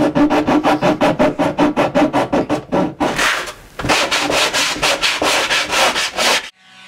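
Wood being sanded by hand during finishing of a workshop cabinet case with extendable shelf and full-extension drawers: steady rhythmic back-and-forth rasping strokes, close and loud, shifting to a faster, denser scrubbing pattern partway through.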